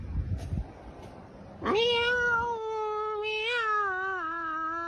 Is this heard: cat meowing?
yes